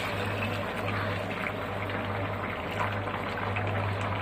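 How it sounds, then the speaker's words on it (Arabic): Hot water pours into a pot of sautéed vegetables being made into soup, producing a steady, continuous splashing rush with a faint background hum and no speech. "احط لها ميه سخنه اهي"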